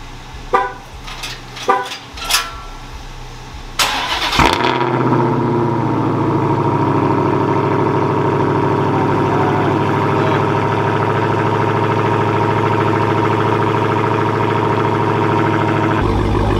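A Dodge Hellcat Redeye sounds a few short chirps and clicks, then the engine cold-starts with a sharp bark and settles into a loud, deep, steady rumbling idle up close.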